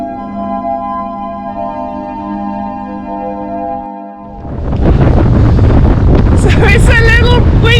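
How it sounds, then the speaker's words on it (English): Steady wind buffets the microphone with a low roar on a clifftop above Balnakeil Beach, Scotland, joined midway by louder gusting rumble and a voice speaking briefly near the end. "It's a little windy up here at the top bit"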